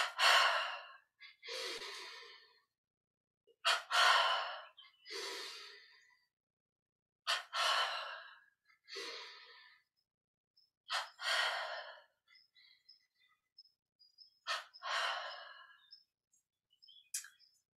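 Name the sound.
double inhale breathing during yoga exercise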